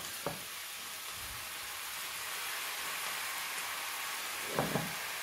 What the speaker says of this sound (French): Donc ensuite, je vais ajouter les tomates,